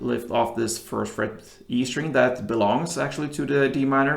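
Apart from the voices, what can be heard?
No distinct noise like a dog, phone or traffic.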